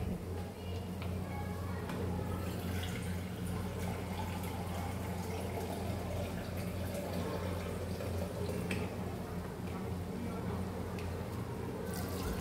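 Water poured into a pot of rice for soybean pulao, about two and a half bowls, a soft continuous trickling and dripping with faint splashes, quiet and close.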